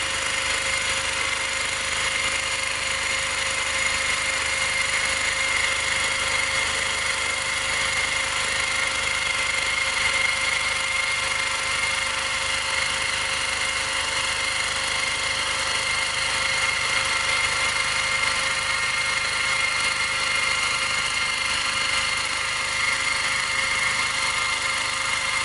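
A mini mill runs a fly cutter, giving a steady, unbroken mechanical whine with a constant hum underneath, moderately loud and unchanging the whole time, with no voices.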